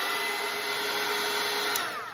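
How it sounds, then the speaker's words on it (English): A hair dryer blows steadily over watercolour paint, a loud continuous whirring hiss with a constant motor whine, close and alone, easing slightly as it ends. "I'm gonna grab my dryer right here and I'm gonna make it dry"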